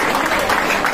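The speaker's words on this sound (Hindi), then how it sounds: "तो एक बार ताली बजाओ इनके लिए।" Audience applause for an honoured guest speaker at a Teachers' Day motivational talk, a steady, dense patter of many hands clapping throughout, fairly loud and even with no pauses.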